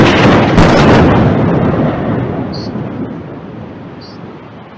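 A loud, deep rumbling blast from an Israeli rocket strike on Palestine booms near the start, then rolls and decays slowly over several seconds.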